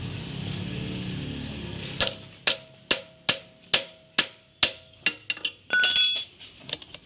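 Eight or so sharp metallic taps from a hammer straightening radiator fins, evenly spaced and ringing briefly, followed by a quick cluster of lighter clinks and scraping.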